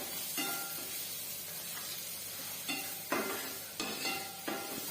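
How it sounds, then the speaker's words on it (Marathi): Grated fresh coconut and garlic sautéing in a pan for a Maharashtrian brinjal dish, soft sizzling broken by several sharp scraping stirs of a spatula, close and without speech. "पण मी असं दोन मिनिट हे सगळं आपण परतून घेऊया"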